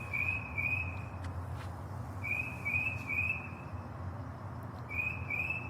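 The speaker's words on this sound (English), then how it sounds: "There are some loud fucking birds." Loud bird calls ring out in short whistled bursts, three separate phrases with pauses between, over a steady low rumble of background noise.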